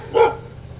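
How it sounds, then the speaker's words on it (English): A dog gives a single sharp bark, fairly close, in a residential yard in Paniqui, Tarlac, Philippines, then fades into a quiet low background hum. "the barking dog situation is really something"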